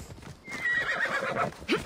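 Horse in the video game Assassin's Creed Odyssey giving a single short whinny over light hoof clip-clop, fairly quiet and alone.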